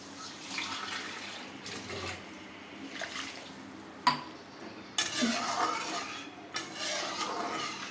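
Water poured into a pan of fish curry, with scraping, clinking utensil sounds and splashing bursts at close range, fairly quiet.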